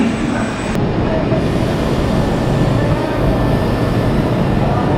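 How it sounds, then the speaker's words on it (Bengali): A train bound for Venice, heard from a station platform in Florence, Italy, gives a loud, continuous rumble and roar close by, with a steady mechanical drone throughout. "এটা ভেনিস পর্যন্ত যাবে এই ট্রেনটা।"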